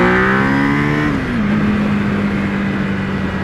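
1000cc motorcycle under hard acceleration, engine note rising as it pulls, then a gear change near the middle before a steady, loud, close roar continues to the end.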